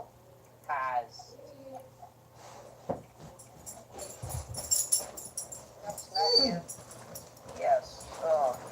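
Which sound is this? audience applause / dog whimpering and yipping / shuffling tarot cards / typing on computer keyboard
dog whimpering and yipping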